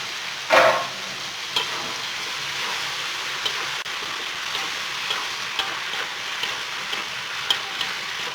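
Washed bitter gourd sizzles steadily in a frying pan, opening with a sharp burst as it hits the hot oil, then a continuous crackle with small pops.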